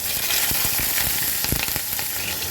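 Onion, ginger and garlic paste with green chilli sizzle steadily in hot oil and spices for a chital fish kofta curry, broken by several close stirring scrapes, with no talking.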